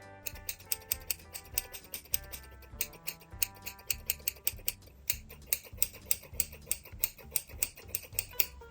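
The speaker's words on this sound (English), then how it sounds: "So now I'm gonna cut into the fringe." Scissors snipping through a hair fringe during a home haircut, a steady run of crisp, close metallic cuts in a quick rhythm with no talking.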